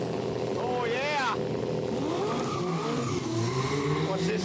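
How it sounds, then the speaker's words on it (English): A Nissan R32 GTR revs and accelerates on a drag strip, its engine note sweeping up in rising harmonic waves under steady crowd noise and commentary-like talk. "Very rare car now, the R32 GTR."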